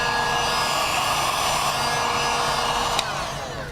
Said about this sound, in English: still be careful about pointing the heat gun at the plastic